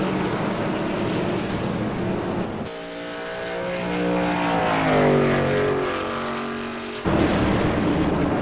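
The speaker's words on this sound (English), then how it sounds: "Rob Anglin's got his truck wound up and getting back out there to continue running." Race truck engine at Charlotte track, a steady high-pitched roar that drops away, then a single engine revs up and winds through rising and falling pitch before the loud roar cuts back in.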